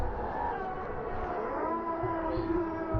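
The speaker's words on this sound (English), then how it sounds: "demonic moaning and the souls of the damned that are being tortured eternally in hell" Low, drawn-out demonic moaning tones from the Doki Doki Literature Club: Blue Skies game swell and waver over a dark rumbling drone, steady and eerie throughout with no speech.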